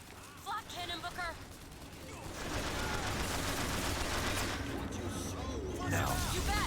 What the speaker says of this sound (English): Flak cannon, Booker!